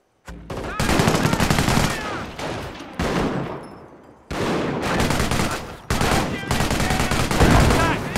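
Rapid gunfire bursts in the World War II strategy game Company of Heroes, British Army training battle, loud and dense, cutting in and out in several heavy volleys.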